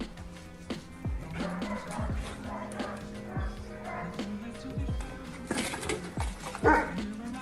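A dog barks repeatedly in short, spaced yaps, fairly close, with a few higher yips mixed in and a soft background hum.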